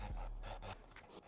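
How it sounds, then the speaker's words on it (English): Heavy, rhythmic panting breaths from a sped-up video, quick repeated inhale-exhale pulses, faint and close, with no talk over them. "The speed up with the heavy breathing is the worst."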